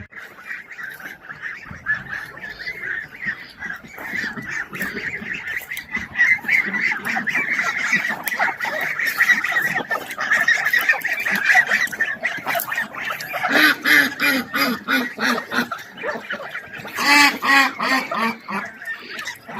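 Domestic geese and ducks in a farmyard honk and quack almost without pause for about twenty seconds, with loud, overlapping bursts near the end. A voice can be heard briefly among them.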